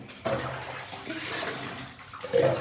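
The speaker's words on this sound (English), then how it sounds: "Oh no, there's water splashed on it." Water splashes and runs continuously while a Labrador puppy is bathed, a close, fairly loud wash of pouring and splashing with a sharper burst at the end.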